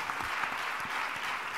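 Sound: audience applause

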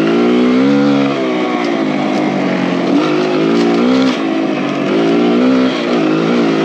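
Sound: Kawasaki KLX140RF dirt bike riding a trail

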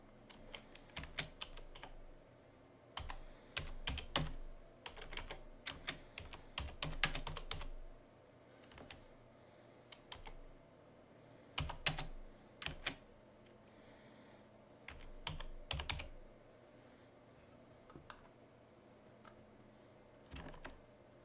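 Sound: typing code on a computer keyboard

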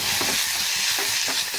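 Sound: oil added to pan, sizzling

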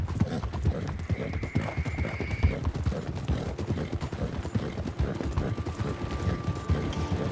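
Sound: horse galloping hooves in video game

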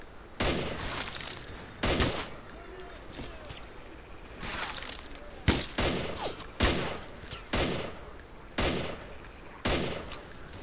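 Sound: gunshots in the video game S.T.A.L.K.E.R. Clear Sky

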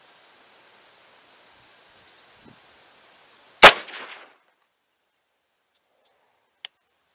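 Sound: rifle gunshot from a 6.5 Grendel upper

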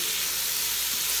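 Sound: frying salt and cayenne pepper in a Ninja Foodi

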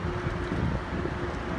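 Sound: wind blowing

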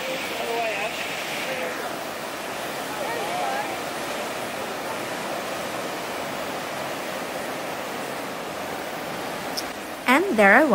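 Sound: ocean waves up close on Coogee to Bondi coastal walk

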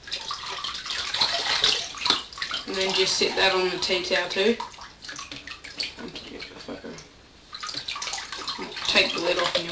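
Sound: water draining out of a tipped fry tank

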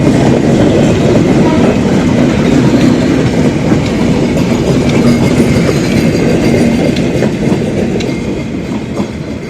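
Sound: passing train

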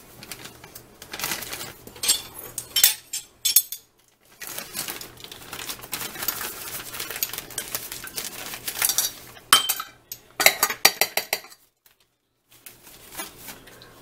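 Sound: measuring spoon scooping cayenne and ginger powder into bowl

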